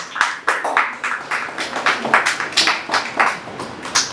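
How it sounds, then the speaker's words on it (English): Audience applause at a book launch for Gautham Menon's Snippets of Light: a few scattered hands clapping in a steady, moderately close rhythm of sharp individual claps, fairly light rather than a full crowd ovation. "Let him clap."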